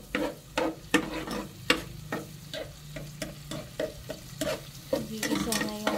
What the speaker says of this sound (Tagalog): Gigisa na yung bawang, sibuyas at kamatis.